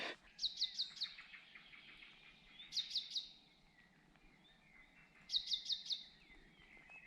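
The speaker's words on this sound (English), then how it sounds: "Man, the bird song for here is beautiful." Birds sing along a hiking trail in the Travers-Sabine area, with three separate bursts of rapid, high, repeated chirped notes spaced a couple of seconds apart, fairly faint and set against a soft ambient background.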